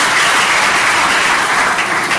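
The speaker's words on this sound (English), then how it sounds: "Can you give her a round of applause?" Steady crowd applause fills the whole stretch, loud and close, a dense wash of clapping hands with no talk over it, rising from a classroom-style audience asked to give a girl a round of applause.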